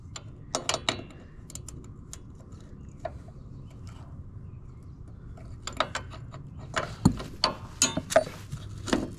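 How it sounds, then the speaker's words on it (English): Ratchet wrench clicking in short irregular bursts while loosening the oil filter on a modified lawn mower, close and fairly loud over a low mechanical background. "It's a ratchet wrench, so I can't just hold it on there."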